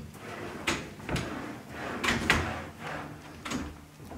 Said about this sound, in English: House check all the drawers.